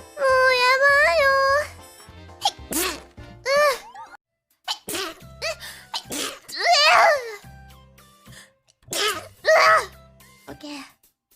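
Someone sneezing several times in quick succession, loud and close, with bursts of cute voiced sneezes separated by short pauses, mixed with a few squeaky vocal sounds.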